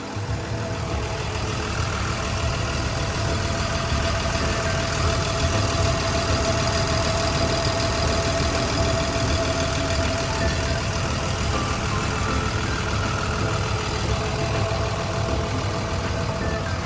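A Cummins B6.7 diesel engine idles steadily at close range on a Hitachi ZW180-5B wheel loader, a constant rumbling drone with a faint knocking texture, unchanging throughout with no voices.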